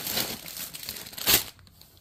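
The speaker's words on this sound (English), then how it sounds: "Again, I apologize for the crinkling." Plastic packaging on a cross stitch pattern crinkles close up in a short burst of rustling that swells to a sharp crackle near the end and then falls quiet.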